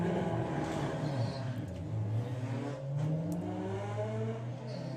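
A VW drag racing car revs loudly at a drag strip event, its engine note rising and holding in steady harmonic bands for several seconds, close and continuous with no talk.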